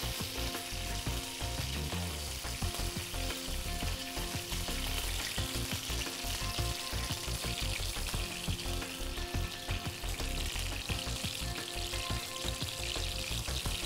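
Marinated fish pieces fry in hot mustard oil with curry leaves, a loud, dense, continuous crackling sizzle that holds steady throughout, close and without talk.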